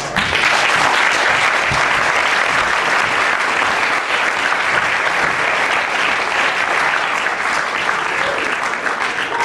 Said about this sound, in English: I would like to get a round of applause for Imperial College Junior Philosophy Society